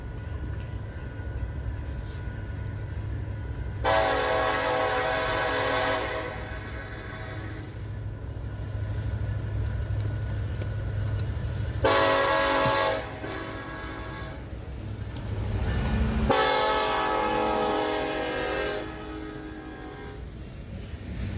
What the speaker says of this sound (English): This is train M327, led by Union Pacific SD70AH 9007